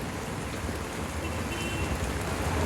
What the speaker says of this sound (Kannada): ಸಂಜೆಯಿಂದ ಕಂಟಿನ್ಯೂಸ್ ಆಗಿ ಮಳೆ ಬರ್ತಿರೋದ್ರಿಂದ